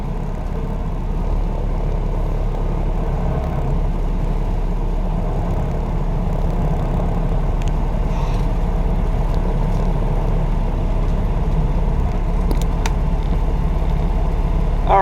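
Truck reversing during an in-cab pre-trip inspection, a steady low engine rumble heard from inside the cab with a few faint clicks and rattles.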